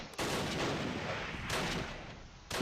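Gunfire in the wargame Close Combat: Last Stand Arnhem comes as a dense, continuous rattle of shots and blasts at moderate level, with a brief gap before another burst at the end.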